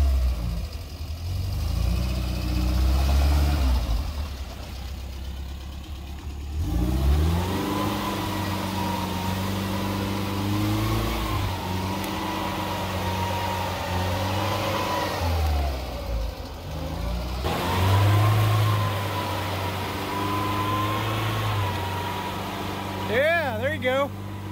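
Pinzgauer six-wheeled off-road vehicle pushing through deep Ozark mud, its engine loudly revving and surging in repeated rising and falling pulls, close up, with people talking and exclaiming over it.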